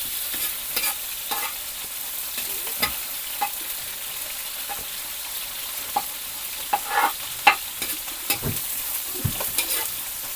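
Onions sautéing in a pan, a steady close sizzle and crackle with occasional scrapes from a stirring utensil, and no voices.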